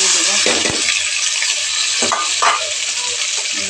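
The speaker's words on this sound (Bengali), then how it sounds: "আদা বাটা দিয়ে দেবো।" Onion, garlic and ginger paste fry in hot oil for a chicken curry, a constant loud hissing sizzle with occasional spoon scrapes and stirring knocks near the pan.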